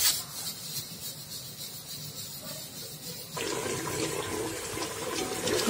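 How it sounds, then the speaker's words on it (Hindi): Water from cooked rice poured off through a strainer in a home kitchen while making biryani, a steady rushing splash that grows louder and fuller partway through, heard alone without talk. "मेरे चावल को मैं छानने लगी हूँ।"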